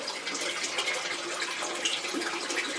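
Water drains steadily from a 125 gallon cichlid aquarium, a continuous close hiss and trickle of flowing water with no voices.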